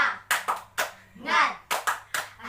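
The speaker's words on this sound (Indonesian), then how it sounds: "Tepuk semangat." A classroom of children does a rhythmic 'tepuk semangat' clapping chant, with bursts of clapping in quick patterned groups between short chanted calls.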